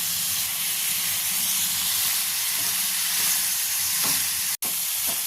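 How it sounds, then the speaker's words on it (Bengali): Spice paste fries with a splash of water in a pan, giving a loud, dense sizzle and steady hiss throughout, close up, with a few faint stirring scrapes and no talk. "খুব সামান্য একটু জল দিয়ে মশলা কষাচ্ছি যাতে মশলাটা পুড়ে না যায়"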